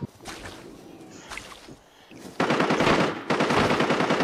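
Gunfire in the shooter game Arena Breakout: scattered distant shots early on, then loud, rapid bursts of automatic fire that continue to the end.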